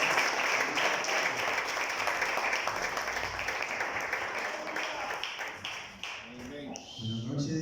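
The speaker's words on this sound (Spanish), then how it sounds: "¿Y por qué no le damos un fuerte aplauso a Cristo?" Church congregation applauding during a fasting and prayer service, a dense wash of many hands clapping steadily and loudly for several seconds, with voices beginning to talk near the end.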